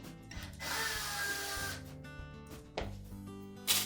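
A tool takes the screws out of a Maytag dryer panel during a blower wheel repair. It makes close mechanical whirring and ratcheting in a few separate bursts with short pauses between them.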